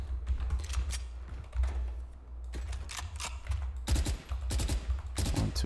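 Phantom rifle firing in Valorant, heard as several short bursts of rapid shots separated by brief pauses, at a moderate, fairly subdued level with no talking.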